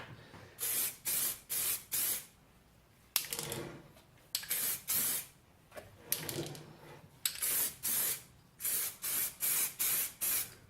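Short hissing bursts of spray paint coat a restored Union rim lock, about a dozen pulses in quick rhythmic groups separated by brief pauses, close and fairly loud with no talk.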